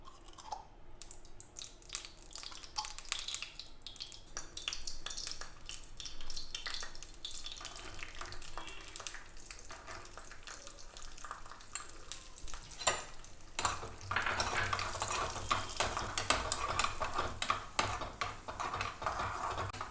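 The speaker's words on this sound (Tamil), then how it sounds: "நம்ம நெய் ஊற்றி இந்த நட்ஸ் எல்லாம் கொஞ்சம் வறுத்துக்கலாம்." Mixed nuts roast in ghee in a pan for a paal poori stuffing, with a steady low sizzle broken by frequent scraping stir strokes that grow busier toward the end. No one speaks.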